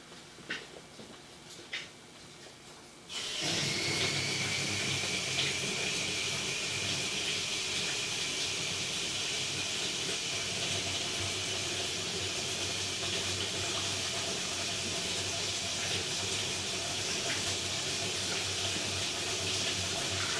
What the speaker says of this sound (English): I'm going to go ahead and run some water